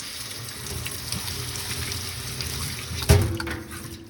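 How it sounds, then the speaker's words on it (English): Water running over dirty quad engine parts to flush out loosened dirt before disassembly, a steady faint trickle and splash with low background rumble and one brief louder knock near the end. "I might run it under some water to flush it"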